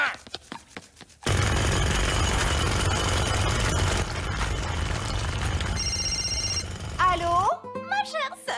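An old-fashioned telephone bell rings loudly and continuously in a French-dubbed children's cartoon, a harsh rattling ring lasting several seconds. Brief speech comes before it, and after it stops there are cartoon voices and a short electronic tone.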